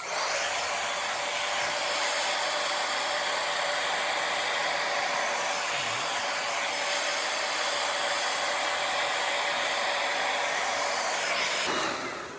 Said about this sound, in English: So I'm going to turn the hairdryer on now